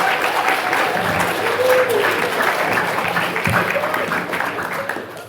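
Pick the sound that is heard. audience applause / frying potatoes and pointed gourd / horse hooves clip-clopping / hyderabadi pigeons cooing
audience applause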